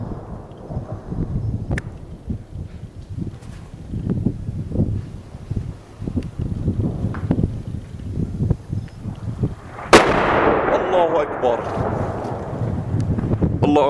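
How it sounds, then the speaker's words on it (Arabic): Artillery shelling on the town of Salma in Latakia: a sudden heavy blast booms and rolls away into a long fading rumble, preceded by wind buffeting the microphone and scattered thuds, with people talking and shouting. "قصف عنيف على مصيف سلمى 7/3/2013"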